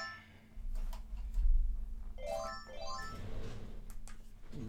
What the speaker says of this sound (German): Und mein Telefon klingelt, einen kleinen Moment bitte.